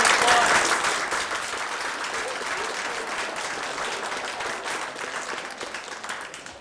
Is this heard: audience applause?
yes